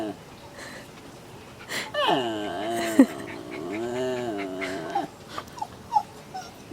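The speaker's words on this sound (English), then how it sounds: "Tope's trying to find what it is he's barking about." A dog vocalizes at a fallen bird feather with whiny, drawn-out yelps and howl-like cries, close and fairly loud, broken by short sharp bursts, while people talk in the background.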